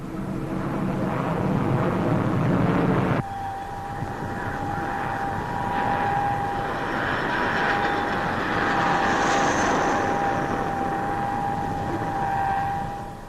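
A jet aircraft, an English Electric Canberra, roars steadily overhead at the 1952 Farnborough airshow, a loud broadband rush with a sustained whine that shifts tone after a few seconds and holds to the end.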